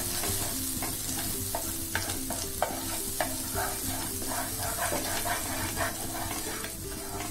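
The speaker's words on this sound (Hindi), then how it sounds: "अब हमारा पैन अच्छे से गर्म हो चुका है, मैं डालूंगी इस पर बटर। बटर को अच्छे से फैला देंगे।" Butter sizzles steadily on a hot tawa while a spatula spreads it around, with a continuous close frying hiss and rhythmic light scraping strokes over several seconds.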